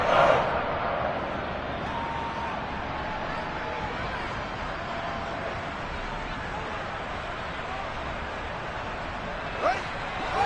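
A football stadium crowd at a Bears vs Packers game roars steadily through the whole span ahead of a big third down, a dense, sustained wash of voices with a brief swell near the end.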